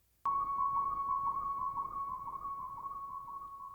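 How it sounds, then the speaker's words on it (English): A sine synth patch on a Korg Minilogue sounds one steady, pure sustained tone that begins abruptly and holds at an even level for several seconds, alone and clean. "I put this little sound effect in here, or synth patch really, but it's just a sine patch on the Korg mini log"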